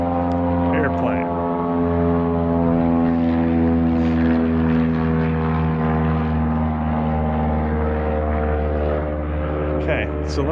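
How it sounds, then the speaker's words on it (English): Propeller airplane droning steadily overhead for the whole stretch, a loud continuous hum with layered tones, outdoors near a Yamaha Tenere 700 motorcycle, with a voice speaking over it. "Airplane."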